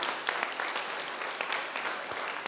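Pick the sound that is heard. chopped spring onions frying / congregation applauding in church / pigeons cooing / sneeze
congregation applauding in church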